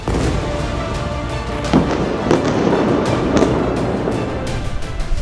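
Bombing explosions in war footage from the Syrian border area: loud, crackling bursts and sharp thuds repeat rapidly over a dense, rumbling background.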